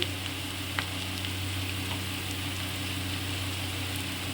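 Onions, then ginger-garlic paste and spices, frying in hot oil: a steady sizzle, a continuous soft crackle with a low hum beneath and an occasional faint clink.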